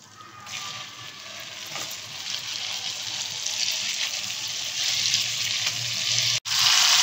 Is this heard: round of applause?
no